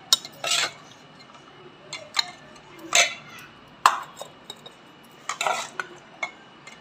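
Rice being stirred in a dish for children, with scattered spoon and utensil scrapes and clinks against the dish, brief irregular bursts separated by quiet gaps.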